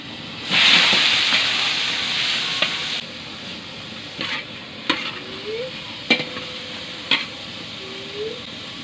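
Shrimp hits a hot pan of garlic with a loud burst of sizzling, then keeps frying with steady hiss while being stirred, with several sharp scrapes and knocks of the utensil against the pan.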